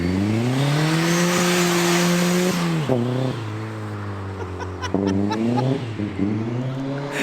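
A turbocharged 1.8 Toyota Yaris SR engine running with a borrowed intercooler, holding a loud rev, then dropping and blipping the throttle in several sharp rises and falls, close by.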